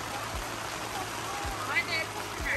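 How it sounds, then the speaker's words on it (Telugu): Heavy rain falls in a steady, dense hiss that fills the background, with a few faint knocks and low thumps over it. "ఏమన్నా వర్షం పడుతుంది, అసలు సౌండ్ వినిపిస్తుంది, అసలు ఎంత ఎక్కువ పడుతుందో."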